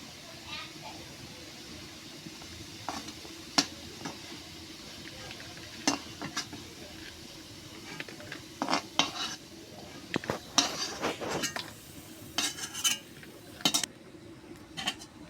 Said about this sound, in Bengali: আলুগুলো তুলে নেব